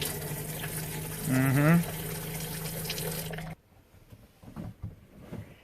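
Water runs from an RV sink faucet in a steady, close rush that stops abruptly partway through, followed by quieter handling noises and a brief murmured voice.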